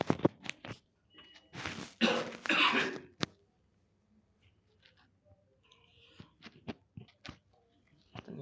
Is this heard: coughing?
yes